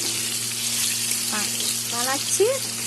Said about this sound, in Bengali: এখন আলুগুলা ভাজা করছি।